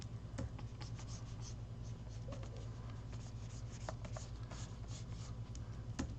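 Pencil sketching a snow bear figure, loose strokes scratching softly and continuously across paper, faint and close under a steady low hum, with no talking.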